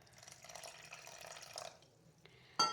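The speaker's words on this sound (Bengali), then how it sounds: "একটু জল দিয়ে দেবো" Water trickles softly into a thick, milk-mixed patishapta batter that had soaked for an hour, a quiet pour lasting under two seconds, followed by a brief pause and a sharp clink at the end.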